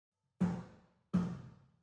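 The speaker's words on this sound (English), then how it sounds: "we're using the snare fatness preset" Two snare drum hits processed with a snare fatness preset ring out with a short reverb tail, evenly spaced and close, followed by the start of a third hit cut off at the end.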